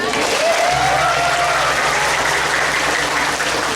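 Audience applause at a Balinese Drama Gong traditional theatre performance, a dense, steady wash of clapping that fills the whole stretch at close range, with no voices over it.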